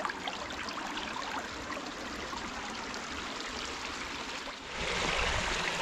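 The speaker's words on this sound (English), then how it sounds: "that little trickle right there is the last one here before, well, the stream's coming down here" A small stream trickling down a cascade on a forest hiking trail, a steady close splashing rush of water that swells slightly louder near the end, with no voices.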